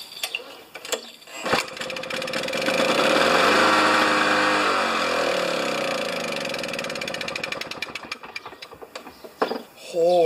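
A big, rare Lawn-Boy two-stroke lawn mower engine fires up and runs loudly for several seconds, with a buzzy, uneven roar that rises and sags as it struggles for fuel, then cuts out near the end.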